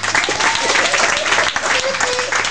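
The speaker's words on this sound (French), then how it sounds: "Si vous voulez applaudir, sinon je s'en va." An audience at a Christmas gathering breaks into steady, close applause, with a voice talking over the clapping.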